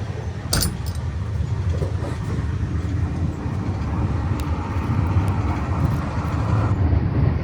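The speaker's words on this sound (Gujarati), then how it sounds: "ટ્રેને લીધો છે બ્રેક અને અત્યારે ઊભી ગયા છે અહીંયા" A train in Punjab brakes to a stop at a railway station, giving a close, steady low rumble with a brief metallic rattle near the start and no voices.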